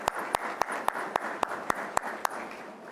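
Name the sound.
cadets applauding families and friends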